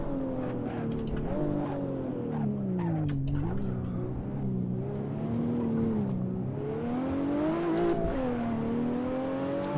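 A stage 3 tuned BMW 1M on a hillclimb revs hard, its engine note rising and falling through corners while the tires squeal and skid, loud and close throughout.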